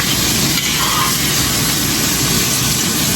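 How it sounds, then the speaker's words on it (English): A steak sizzles and spits steadily in a hot 12-inch Cooklife cast iron skillet while being basted with garlic, a loud, constant, close-up hiss with no break. "I'm going to baste that over the steak"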